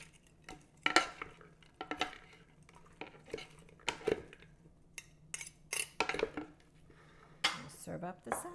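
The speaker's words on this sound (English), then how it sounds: "I'll throw just a few of the croutons in just to get them a little coated" Caesar salad with oven-baked croutons being tossed in a bowl, heard as a close series of irregular clinks, scrapes and rustles of utensils against the dish, with quiet pauses between the bursts.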